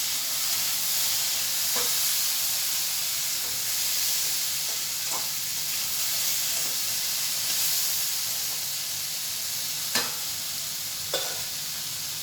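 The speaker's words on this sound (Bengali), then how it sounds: "আমি এরকমই ভাজতে থাকবো" Spiny gourd (kakrol) frying slowly over low heat in a pan, a steady soft sizzle with occasional faint stirring clicks and scrapes, no voices.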